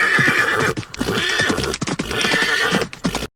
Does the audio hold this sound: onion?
no